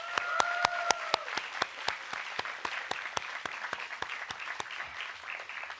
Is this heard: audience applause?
yes